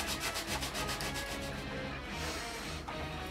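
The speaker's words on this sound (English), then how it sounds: "Good thing about ABS plastic is it's relatively soft, which makes sanding it down really easy." Steady, rhythmic rubbing of sandpaper against a 3D-printed ABS plastic blaster part, close and continuous, with repeated strokes that smooth out toward the end.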